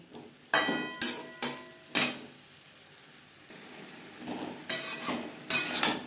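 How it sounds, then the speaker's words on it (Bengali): Cauliflower being stirred with spices in a pan, with repeated sharp metallic scrapes and knocks of a spatula against the pan in quick bursts, a quieter gap in the middle, then more scraping over a faint sizzle. "মশলা ফুলকপির সাথে বেশ ভালো করে মিক্সড করে দেবো"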